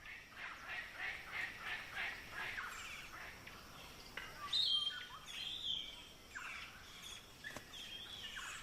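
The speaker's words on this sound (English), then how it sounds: "The local birds gather at trees that are fruiting." Birds call faintly from fruiting trees in palm cockatoo habitat, with repeated chirping notes early on and scattered sharper calls later over a low background hiss.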